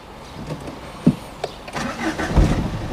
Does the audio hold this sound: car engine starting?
yes